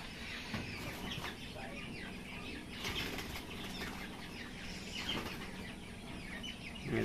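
Quails at a quail farm, many birds chirping and calling together with wings flapping in a busy, constant bustle. A voice can be heard faintly under the flock.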